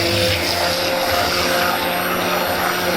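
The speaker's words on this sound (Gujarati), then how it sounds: "અને પછી બ્લેન્ડર છે ને ફેરવી દેવાનું છે." A kitchen blender whirs steadily while mixing dosa batter with water, a loud, continuous motor drone with a broad whine that holds at a constant level with no pauses.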